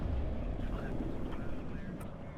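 ATGM attack helicopters in the video game Warno make a steady, dense rotor and engine drone that fills the clip, heard from mid distance with no talk over it.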